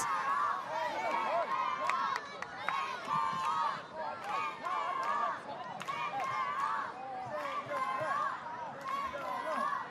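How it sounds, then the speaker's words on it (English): Crowd at a women's league football match between Central Coast Mariners and Perth, a steady roar of cheering and hubbub throughout with a commentator talking over it. "the cheers from the crowd tell you exactly what they think"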